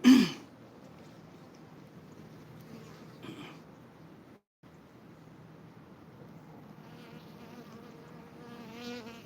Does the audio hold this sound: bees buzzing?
yes